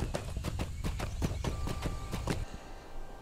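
Horse hooves clip-clopping in a steady rhythmic gait while riding in Lord of the Rings Online, heading from Bree toward the festival grounds; about a dozen clear, close hoof strikes that stop near the end.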